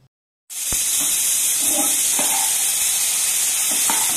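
Fried fish heads being stirred into a Malabar spinach curry in a pan, with a steady loud sizzle throughout and a few soft scraping stirs, no talking.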